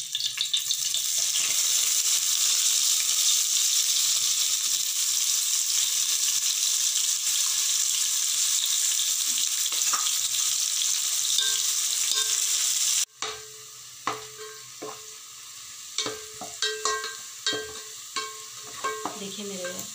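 Onion frying in a pan with cardamom and cloves for khuska rice gives a loud, continuous sizzle, then abruptly drops to quieter crackling broken by sharp stirring scrapes and clinks.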